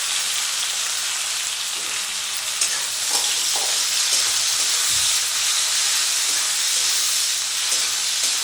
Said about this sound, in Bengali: এবারে এর মধ্যে দিয়ে দিচ্ছি 1 চামচ আদা রসুনের পেস্ট আর দিয়ে দিচ্ছি কেটে রাখা টমেটো